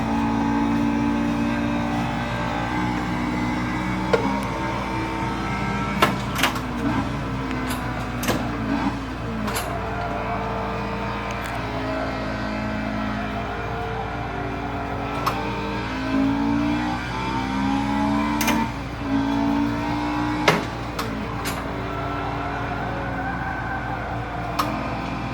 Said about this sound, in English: We're driving an S2000, sort of modded like mine.